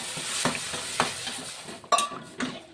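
Water is poured into a pan of roasted semolina and the mixture is stirred, giving a steady sizzle with scraping strokes and two sharper bursts near the end.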